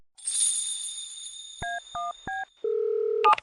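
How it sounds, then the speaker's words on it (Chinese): A telephone being dialed: a high electronic tone fades out, then three short dual-tone keypad beeps sound in quick succession, followed by a longer steady ringing tone and a final burst of chirps, close and clear with no talking. "稍等，我打个电话。"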